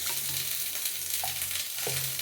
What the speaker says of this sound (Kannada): ಒಂದು ಸಿಂಪಲ್ ಆದಂತಹ ಒಗ್ಗರಣೆ